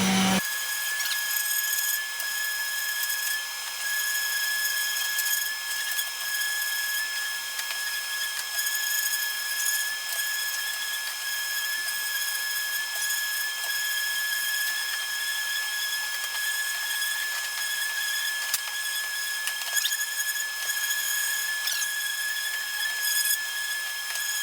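Hand sanding of old wine barrel wood with 220 grit sandpaper, a continuous dry scratchy rasp with faint tonal whine running throughout, fairly close and steady with small bursts, no talking.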